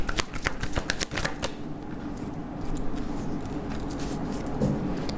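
A tarot card slides off the deck with papery shuffling and rustling, close and continuous, a few crisp snaps at the start giving way to soft sliding.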